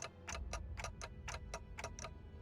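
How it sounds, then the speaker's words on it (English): Clock ticking in the game Limbus Company, eight or so crisp, close ticks at a steady quick pace over a low hum. "all I can hear is the clock ticking"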